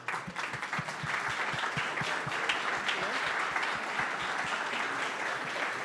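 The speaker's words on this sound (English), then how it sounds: "give you a round of applause" Steady, sustained crowd applause at a startup demo day honors the summer mentors, with a regular low thumping beat running underneath the clapping throughout.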